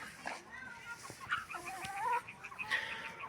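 Hens and a rooster cluck nearby in a backyard garden, a string of short, irregular close clucks and murmuring calls rising and falling over a few seconds.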